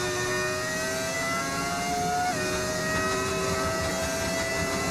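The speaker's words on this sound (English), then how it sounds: "I think it's literally just like an engine sound mod" An F1 25 racing car in a video game, running an engine sound mod, gives a steady high-pitched whining engine note with one abrupt pitch drop midway, like a gear change, before holding steady again.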